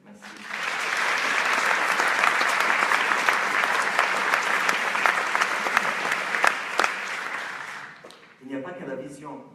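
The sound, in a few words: audience applause for festival staff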